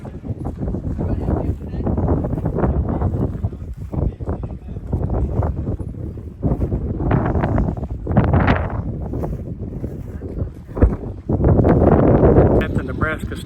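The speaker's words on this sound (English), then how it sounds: "Very windy here, a little warm" Strong gusting wind buffets the microphone outdoors at a Nebraska Star Party near Valentine, Nebraska, loud low rumbling blasts rising and falling while a person talks throughout.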